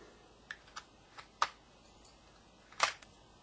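Plastic clicks and snaps as a 2001 Oldsmobile Silhouette power window switch is pried out of its housing, a few sharp separate pops spread over a few seconds, the loudest two standing out near the end, close and fairly quiet.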